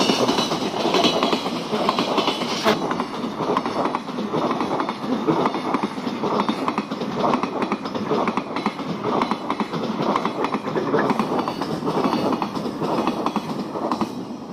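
A train rumbles steadily along the tracks, a loud continuous roar with faint rhythmic clatter of wheels throughout.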